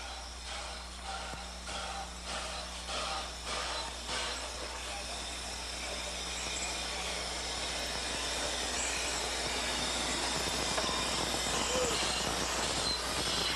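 A 1925 Baldwin Mogul steam locomotive heads for a sugar mill near Varadero, with rhythmic chuffing bursts at first that settle into a steady rolling rumble and hiss, growing slightly louder toward the end.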